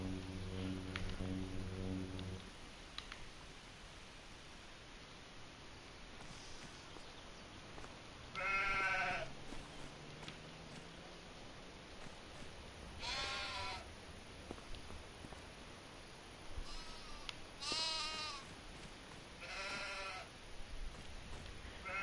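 Sheep bleating in Farming Simulator 25, repeatedly at irregular intervals, some calls louder and nearer than others, over a steady low background hum, with no voices.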